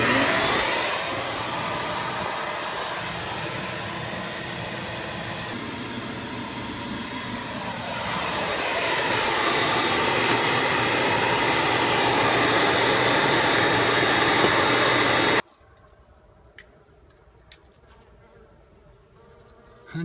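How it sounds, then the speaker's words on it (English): Shop vacuum running during a honey bee removal indoors, a loud continuous whine with buzzing bees mixed in that cuts off abruptly near the end, leaving quiet room noise. "You want to run the vac some more?"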